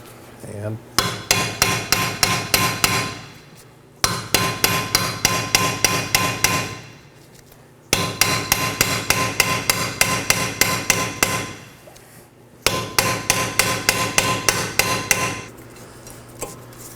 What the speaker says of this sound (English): We use an impact driver to remove it